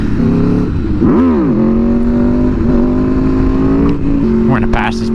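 An Aprilia motorcycle engine revs up sharply and drops back as the throttle is chopped, then settles into a steady loud drone with rising pitch sweeps, heard close with engine noise throughout.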